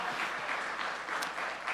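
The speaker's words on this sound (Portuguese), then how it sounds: "dá mais um aplauso aí ao Senhor, em nome de Jesus" A church congregation claps during an evening worship service, giving a round of applause to God; steady, fairly faint clapping with slight swells, recorded at a distance in the sanctuary.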